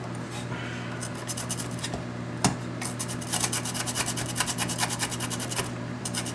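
A tool scrapes solder mask off a circuit board on a 19-inch K7000 arcade monitor, making rapid, close, rhythmic scratching strokes with a short sharp click partway through.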